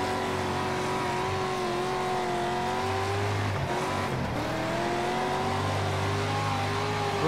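In-car engine of a dirt track race car in the World of Outlaws: Dirt Racing video game, a sustained droning whine that rises and dips with revs, with a brief tire scrub midway, heard alone without talk.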